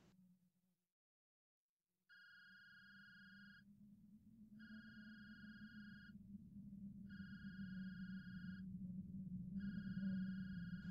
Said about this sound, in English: I can hear Mom's cell phone ringing from afar